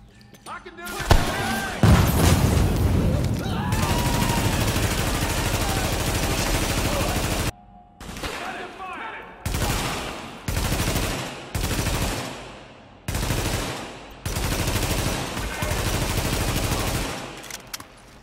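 Sustained automatic rifle fire in The Division shooter game in a Queens tunnel camp, long unbroken bursts then a series of shorter rattling bursts separated by brief pauses, loud and close.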